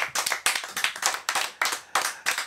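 A studio audience on a French television show clapping in a slow, rhythmic unison, about eight distinct beats spaced roughly a third of a second apart, loud and close.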